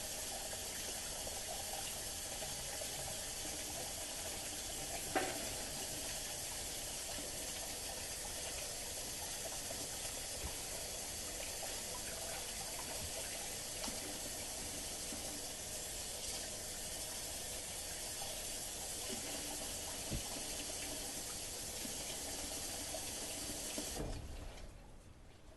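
Hot tap water runs steadily from a faucet for a warm water bath under bread dough, a constant broadband rush with small splashes throughout, cutting off near the end.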